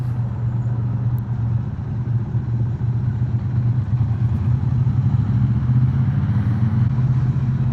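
A 2022 Triumph Bonneville T100 Gold Line motorcycle crosses the bridge at Lake Vyrnwy, its engine a steady, loud, low drone with road rumble throughout, unbroken and without any voices.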